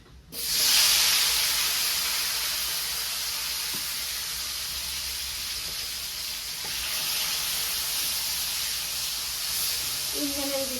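Eggplant (brinjal) slices frying in a pan, a loud steady sizzle that starts abruptly and holds throughout at close range, with faint clinks near the end.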